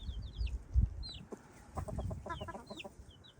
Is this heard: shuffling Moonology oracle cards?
no